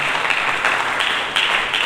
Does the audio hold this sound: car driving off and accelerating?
no